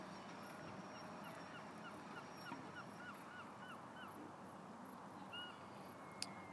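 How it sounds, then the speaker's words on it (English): Seagulls give faint, distant squawking calls over a harbor with moored boats at sunset, heard through a steady wash of wind and background noise. "I'm going to upset all the seagulls"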